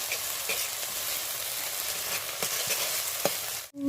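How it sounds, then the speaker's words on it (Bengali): Ginger, garlic and green chilli paste frying on a very low flame, a steady close sizzle with soft spatula scrapes that cuts off abruptly near the end, no talking. "আদা রসুনটা দিয়েও ভালোভাবে আমি কষিয়ে নেব উনুনের জালটা একদম কম দিয়েছি"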